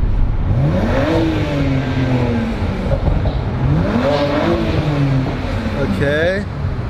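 A BMW 335i held in neutral revs twice, each a rising-then-falling engine surge, with steady car-interior rumble beneath and a person speaking briefly near the end.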